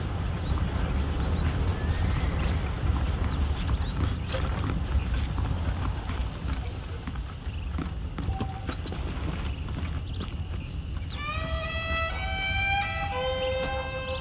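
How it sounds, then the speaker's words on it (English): Steady hoof clip-clops from horses walking in the video game Red Dead Redemption, over a constant rumbling background, with brief whistling chimes near the end. "The horses are saddled up over here."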